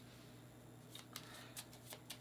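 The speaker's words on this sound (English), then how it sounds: "it says to shuffle the magical beast cards" Magical beast cards from the Foxpaw board game being shuffled, a few quick soft riffling bursts over a low background hum, close and quiet.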